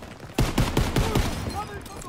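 Rapid gunfire from Call of Duty WW2 rattles out in a quick burst of sharp, loud shots, about seven in a row, then fades into quieter battlefield noise.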